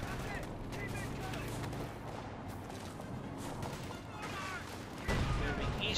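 Gunfire and explosions in the real-time strategy game Company of Heroes 2, a dense run of crackling shots and blasts mixed with game sound and a commentator's voice throughout.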